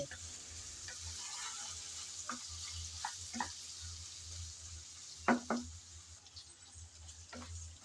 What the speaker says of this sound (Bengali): কিছুক্ষণ তো নেড়ে চেড়ে ভেজে নিলাম